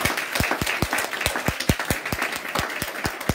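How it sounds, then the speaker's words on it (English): An audience claps for the gentlemen at a Sydney University Law Society mooting demonstration. Distinct, fairly sparse hand claps sound close and steady throughout, with no talk. "Can we have a round of applause for our gentlemen?"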